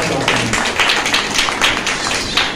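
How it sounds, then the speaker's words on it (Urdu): A congregation applauding during a Sunday church sermon: dense, rapid clapping from many people, loud and steady throughout the short stretch, with a voice faintly underneath. "پریز دی لارڈ, زوردار تالیاں زندہ جو ہو"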